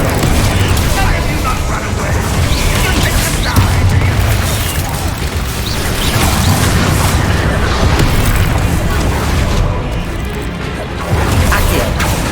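Incendio fire spell blasts in Hogwarts Legacy gameplay: a loud, dense, continuous wall of booming, crackling bursts and crashes fills the whole stretch, with a voice mixed in over the din.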